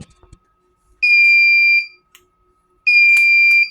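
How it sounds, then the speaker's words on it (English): An egg incubator's humidity alarm sounds two sustained electronic tones, each lasting about a second, separated by a short pause; loud, high-pitched and steady, with faint clicks between. "that there, guys, is what the humidity alarm sounds like"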